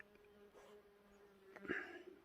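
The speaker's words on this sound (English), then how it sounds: "there's bees everywhere." Faint buzzing of bees droning close by, a thin wavering hum with a brief louder pass near the end against quiet outdoor background.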